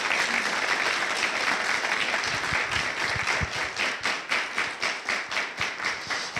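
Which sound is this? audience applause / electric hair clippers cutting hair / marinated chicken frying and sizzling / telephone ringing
audience applause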